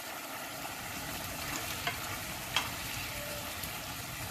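A pan of spicy mapo tofu sauce, seasoned with ginger, garlic and peppercorn, sizzles steadily and close, a constant frying hiss with a few faint stirring taps and no one speaking.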